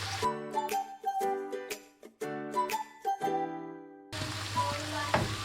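Bright tonal notes ring out first, then a steady, hissing sizzle of green peppers sautéing in a hot pan takes over, close by.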